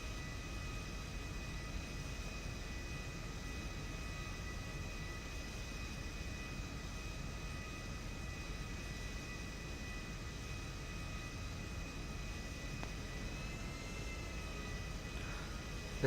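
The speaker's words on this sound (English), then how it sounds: "I'll just cut off a minute so you can hear the engine." The engine of a Nimbus plane in GTA V runs as a steady, even drone with a high whine on top, constant and unbroken, with no voices over it.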